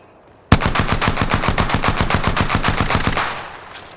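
Automatic gunfire in a video game: a sudden, loud, rapid burst of evenly spaced shots lasting about three seconds, then tapering off, with no talk.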